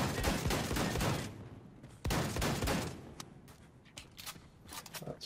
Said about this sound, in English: I know they're coming because their bullets keep flying at me